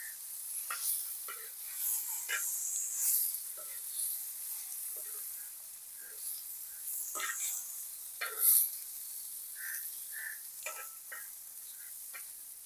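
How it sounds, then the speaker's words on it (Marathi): Spiced okra stir-frying on a tawa hisses faintly and steadily, with scattered soft clicks and scrapes from stirring across a long, quiet stretch. "तर भेंडी आता परतून घेऊया."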